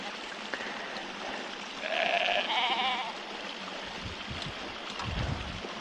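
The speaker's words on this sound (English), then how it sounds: "You can hear some sheep down there somewhere." A sheep bleats faintly from a distance somewhere among bracken on an English hillside, a single wavering call over steady outdoor wind and stream noise.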